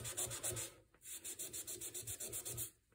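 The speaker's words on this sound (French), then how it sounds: "Et puis l'éponge, il faut qu'elle soit humectée. On vient où est-ce qu'on a notre cerne. On frotte légèrement, comme ceci." A damp sponge rubs back and forth over a quartz countertop to lift a stain, a close, steady swishing in short repeated strokes with a brief pause near the middle.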